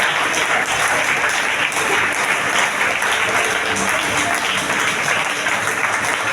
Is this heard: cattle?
no